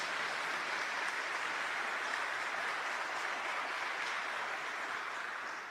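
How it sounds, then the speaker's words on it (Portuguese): An audience gives a round of applause for Pope John Paul II, a continuous dense patter of many clapping hands that stays fairly even and fades slightly toward the end. "Uma salva de palmas para o Papa João Paulo II."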